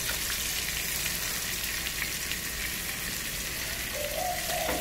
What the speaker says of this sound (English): My dad is cooking fish.